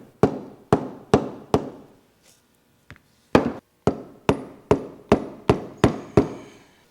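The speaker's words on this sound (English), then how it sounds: "And a little dead blow hammer" Sharp metallic blows from a small dead blow hammer on a socket during skid steer bucket pin repair, about eleven strikes in two bursts with a short pause between, close and loud, each ringing briefly.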